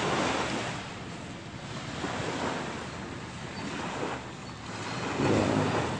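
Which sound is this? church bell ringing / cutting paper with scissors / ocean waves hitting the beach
ocean waves hitting the beach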